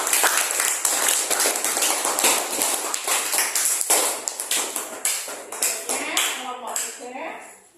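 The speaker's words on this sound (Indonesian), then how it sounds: "Tepuk tangan untuk kelompok 3." Classroom applause for a student group: many hands clapping in a fast, uneven patter, loud and close, gradually thinning out toward the end.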